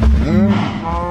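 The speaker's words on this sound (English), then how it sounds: "Why are there so many cows crammed into the corner?" Several Minecraft cows moo loudly and close together in a continuous, overlapping lowing chorus, with no talk over it.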